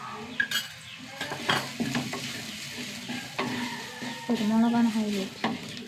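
Ground coriander, chili powder, garam masala and black pepper fry in a pan, sizzling under repeated scraping strokes of a spoon against the metal.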